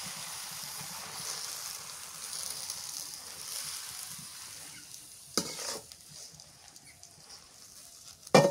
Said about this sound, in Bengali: রসুন মরিচ ভাজা হয়েছে, শাক দিয়ে দিই।